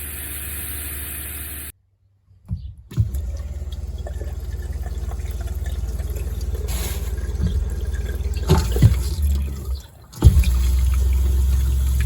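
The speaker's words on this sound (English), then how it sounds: "I'm going to fill the tank with clear fresh water" Clear fresh water runs into a tank, a steady rushing fill with a low idling hum beneath, broken by a short silence and a few bumps and surges partway through.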